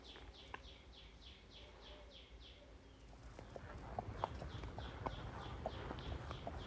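Horses' hooves clip-clop in a steady walking rhythm on a long ride after dark, close and moderately loud, with occasional bird calls and faint rustling in the background.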